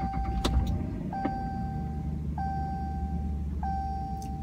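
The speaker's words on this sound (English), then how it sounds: "Hopefully the sound of the engine isn't really loud." A truck engine idles steadily with a low rumble after being started in cold weather, while three repeated electronic chime tones ring out at even intervals over it.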